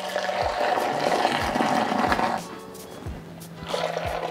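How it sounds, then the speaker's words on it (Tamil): Masala tea strained and then pulled back and forth between vessels to cool it, a steady rushing liquid pour that thins out midway and swells again near the end, with faint knocks beneath. "2 தடவை நல்லா இழுத்து ஆற்றணும்."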